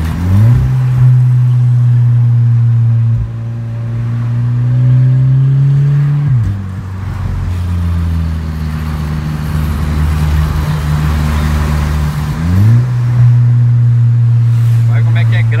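A Volkswagen Jetta TSI 2.0 fitted with an exhaust diffuser revs loudly and deeply, holding steady drones that rise and fall in three long pulls close by, with no talking.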